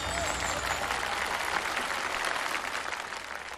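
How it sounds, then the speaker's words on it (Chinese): Applause for a primary school team at a children's televised sprint competition, a dense continuous wash of clapping from a large crowd that stays steady and loud for a few seconds before easing slightly. "11秒18，掌声送给你们。"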